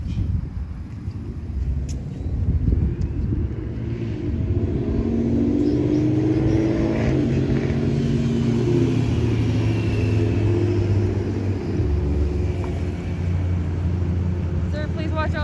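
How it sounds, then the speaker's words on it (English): Steady low rumble of road traffic with cars and vehicles passing close by, a continuous engine drone swelling and fading, with voices talking intermittently over it. "Sir, please watch out for traffic."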